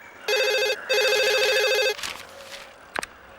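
A telephone rings in two loud electronic bursts, the second longer, in a Hindi-dubbed South Indian action film, then stops, leaving faint room noise and a brief clatter.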